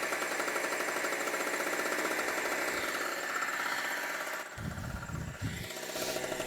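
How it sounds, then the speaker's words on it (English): A small Harbor Freight generator engine running nearby, a steady rapid chugging drone that shifts partway through into rougher, uneven thumping bursts. "Harbor Freight, small generator. Get them started, it's been a while."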